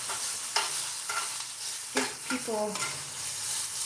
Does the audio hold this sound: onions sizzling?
yes